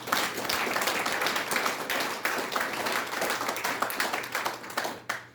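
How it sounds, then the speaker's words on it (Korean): An audience applauds at the opening ceremony of a memorial hall, dense sustained clapping from many hands, steady and fairly loud for about five seconds before it tapers off. "우리 김박 회장님한테도 박수 한번 드립니다."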